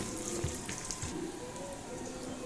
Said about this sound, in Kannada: ಉಪ್ಪು ಹಾಕಿದ ಮೇಲೆ ಎಲ್ಲ ಮಿಕ್ಸ್ ಆಗುವಾಗೆ ಚೆನ್ನಾಗಿ ಇದನ್ನು ಫ್ರೈ ಮಾಡ್ಕೊಳ್ಬೇಕು